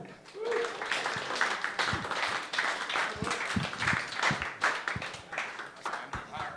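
Audience at an open-mic stand-up comedy night breaking into steady applause and cheering after a joke, sustained clapping close to the stage with a comedian speaking over it.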